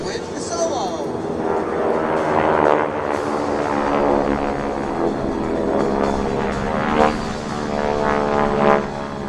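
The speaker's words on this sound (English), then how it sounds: "Here it is, folks, the Skytypers bomb burst with the solo." Geico Skytypers propeller planes roar overhead during a bomb burst maneuver at the New York International Air Show, a loud, swelling and fading drone of several engines with outdoor crowd ambience.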